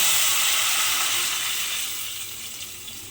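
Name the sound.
cooked curry poured into a pan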